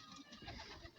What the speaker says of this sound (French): C'est ici que les pigeons boivent de l'eau.